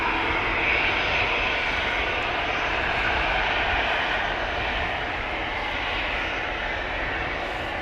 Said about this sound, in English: EasyJet, flight 27927 to Prague, A319.